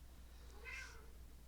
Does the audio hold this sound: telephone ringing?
no